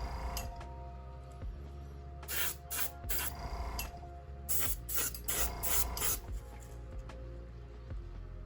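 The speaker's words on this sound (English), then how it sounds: "this is a nice airbrush, doing the pattern does take a lot longer than my usual rattle can spray bombs" An airbrush sprays paint on a 1/24 scale model car, hissing in short spurts over a steady mechanical hum, several quick bursts close by with brief pauses between them.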